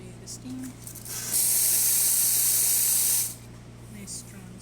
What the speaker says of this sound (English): And I'll show you the steam.